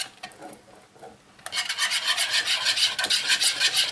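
Homemade mayonnaise being stirred into a lettuce salad with bacon, giving a steady close-up wet rubbing and scraping that starts softly and grows louder and continuous partway through, with no talking.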